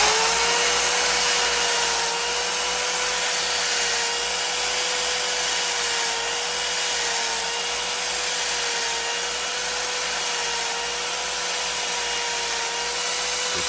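A power grinder with abrasive grit steadily grinds a bevel into a metal spur, a continuous loud whine holding at an even pitch for the whole stretch with no talking.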